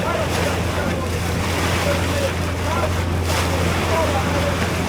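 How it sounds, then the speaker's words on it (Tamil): Small single-engine boat speeding across a lagoon in the Cook Islands, a steady engine drone under rushing wind and water noise, loud and continuous, with voices briefly heard. "அந்த போட்டு பார்த்தீங்களா, குட்டி போட்டு என்ன ஸ்பீடாக போகுது ஒரே இன்ஜினில்."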